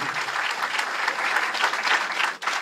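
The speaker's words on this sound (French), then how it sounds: "Donc on applaudit bien fort la ville de Saint-Laurent, ici représentée." Loud, dense applause from a crowd at a Miss France press conference for the town of Saint-Laurent, continuous clapping with a brief dip near the end.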